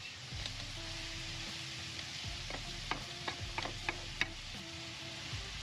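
A spoon stirring Ukrainian borscht in a pot after salt goes in, soft scraping and clinking strokes over a low, even simmering sizzle, close and quiet with no voices.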